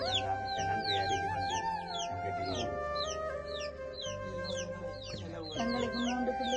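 Chickens kept in a basket coop cluck and cackle in overlapping calls, close and steady throughout, with a persistent background hum and no clear talking.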